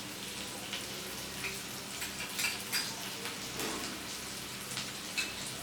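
Potatoes sautéing in a pan with Kashmiri chilli powder, salt and ginger-cumin paste, giving a steady soft sizzle and crackle with scattered light pops and spatula scrapes.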